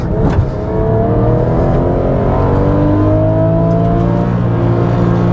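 A Porsche 911 GT3 engine pulling hard on a race circuit, heard as a loud, close, continuous mechanical roar with rising harmonic whine as revs climb through the gear, steady and unbroken.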